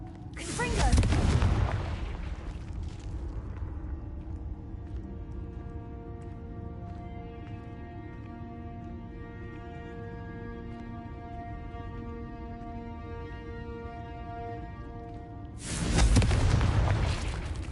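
Two heavy Confringo blasting-spell explosions from Hogwarts Legacy boom out, one near the start and one near the end. Sustained musical tones fill the calmer stretch between the blasts.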